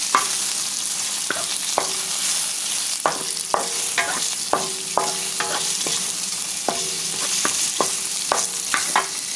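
Shrimp and beef fry in a hot pan for Vietnamese crispy chow mein, a steady close sizzle punctuated by regular clinks and scrapes of a stirring utensil.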